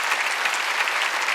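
A church congregation at a Sunday worship service claps together in steady, dense applause that fills the room, loud and continuous throughout.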